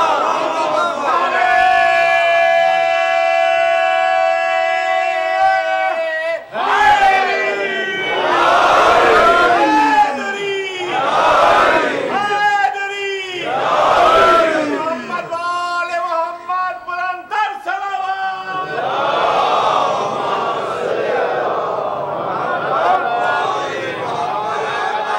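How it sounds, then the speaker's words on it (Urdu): Majlis gathering of mourners loudly chanting slogans in praise of Ali in unison, with rhythmic rising call-and-response bursts and sustained voices filling a hall, close and continuous throughout. "یہ جو علی کے نعرے ہیں نا"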